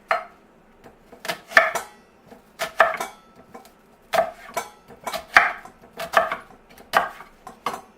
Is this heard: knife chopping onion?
yes